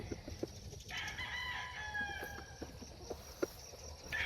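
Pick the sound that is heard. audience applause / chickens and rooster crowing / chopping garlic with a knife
chickens and rooster crowing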